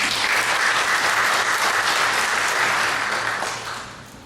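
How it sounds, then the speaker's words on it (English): A debate audience at a Kentucky state representative event applauds both candidates with dense, loud, sustained clapping that holds steady before tapering off at the end. "you may clap for both of your respective candidates now."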